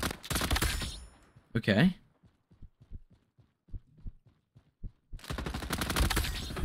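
Gunfire in the Roblox shooter Frontlines, with loud bursts of rapid shots at the start and end and sparse single shots in between, plus a brief spoken word.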